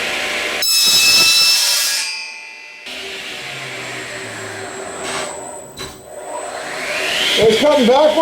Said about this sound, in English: First cut with the Steel Demon.